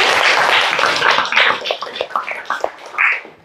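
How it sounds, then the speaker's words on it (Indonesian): Classroom applause for a student who has just given a conclusion, a short burst of scattered hand claps from a group, fairly close and busy, thinning out toward the end with a last flurry. "Tepuk tangan dulu"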